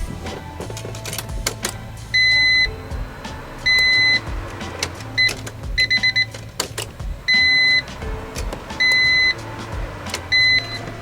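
Honda CRX ignition switched on for fuel system priming, with a series of repeated electronic chime beeps in short bursts over a low whirring hum and occasional clicks.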